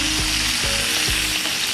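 Eggplant fries in a pan for baingan masala, a loud, dense sizzle filling the short stretch, with a few low knocks of stirring beneath it and no talk.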